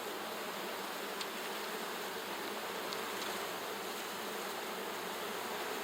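A dense swarm of agitated honeybees buzzes steadily at an overheating hive packed with propolis, a continuous close hum with a few brief higher clicks or taps.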